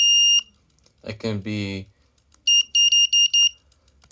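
Buzzer horn on an infrared remote control car sounds first as one sustained tone, then as a row of five quick, loud, evenly spaced beeps, with someone speaking briefly between them.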